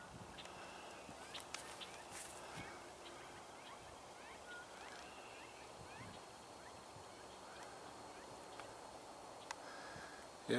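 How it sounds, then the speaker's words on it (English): Northern flickers call back and forth in a dueling display, faint, repeated calls rising out of a quiet outdoor background where other birds also chirp at a distance. "is a flicker still doing the dueling song"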